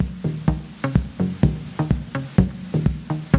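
A machine drum plays a rhythmic pattern of three hits spread across eight pulses, looping steadily with a pitched low thump on each hit and no voices.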